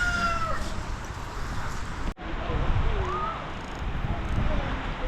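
Strong wind gusting at a beach in Nagsasa Cove, roaring steadily across the microphone with a brief dropout midway, while a voice talks faintly under the noise.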